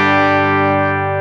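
A PRS studio electric guitar with a 5708 bridge pickup played through a Fender 65 Blackface Deluxe Reverb combo amp, one loud sustained overdriven chord ringing out and slowly fading, heard alone.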